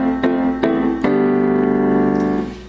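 Piano plays the main riff of a song: three struck chords in quick succession, the last one held and ringing out, played alone and close.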